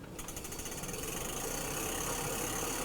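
A TotGuard Wooken folding 20-inch fat-tire e-bike's hub motor spins the raised rear wheel on throttle at pedal assist level 1, a steady close mechanical whir and hum that rises slightly and holds for about three seconds with no voices.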